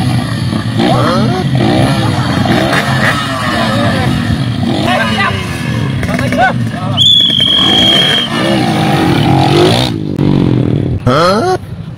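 Several motorcycles are started and revved at once, a loud continuous engine drone with rising rev sweeps and a higher whine, while people shout and talk over it.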